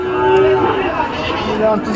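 Sahiwal calves mooing at a busy cattle market in Jessore, Bangladesh, a long low moo up close followed by a shorter call, with people talking nearby.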